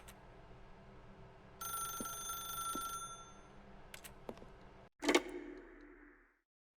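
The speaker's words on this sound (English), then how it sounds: "then pick up the phone" A telephone rings inside The Stanley Parable video game, a clear electronic bell burst that starts partway through and stops, followed by a brief clunk as the receiver is picked up, over a low ambient hum.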